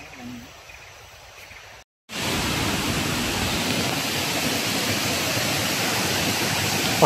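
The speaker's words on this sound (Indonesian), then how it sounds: "sudah kuat dia punya bunyi air terjun deh" A loud waterfall near a hot spring roars as a dense, steady rush of falling water. It surges up abruptly after a brief gap and then holds close and strong, with quieter outdoor ambience before it.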